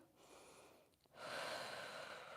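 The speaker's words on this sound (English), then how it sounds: "Breathing in through the nose and out through the mouth." A person breathing during a morning Pilates and strength workout: a soft nasal inhale followed by a longer, louder breath out through the mouth, close and alone.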